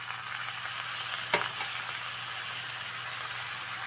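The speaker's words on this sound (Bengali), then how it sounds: "সমস্ত গুঁড়ো মশলা দিয়ে কিছু সময় ভেজে নেওয়ার পরে এর মধ্যে দিয়ে দিতে হবে কেটে রাখা টমেটো কুচি" Chopped tomatoes with ground spices frying for a pumpkin curry, a faint even sizzle with one sharp utensil clink partway through.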